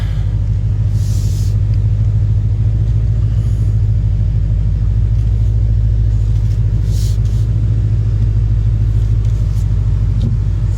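A steady, loud, low engine rumble from a modified car, the Hades, as it is driven into the shop, continuous and close with no speech over it.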